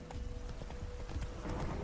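Roach the horse trots in The Witcher 3, with steady hoof clip-clops sounding over a dense game background, and no talking during the clip.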